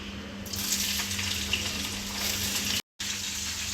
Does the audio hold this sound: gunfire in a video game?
no